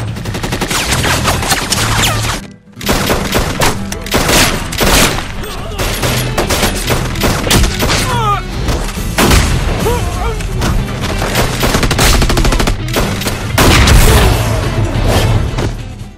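Dense, loud film gunfire during a violent shootout against a gang of clowns, sustained bursts and booms running almost continuously with one brief drop-out near the start.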